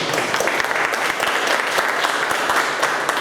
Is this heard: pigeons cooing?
no